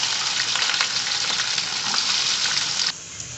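Onion sizzles loudly in hot oil with cumin, mustard seeds and green chilies, a bright continuous crackle with faint stirring scrapes that drops away sharply near the end.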